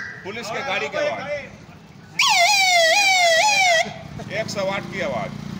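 A hawker's voice mimics a police car siren: a loud, rising and falling wail held for under two seconds, set between other quick vocal imitations of the same kind.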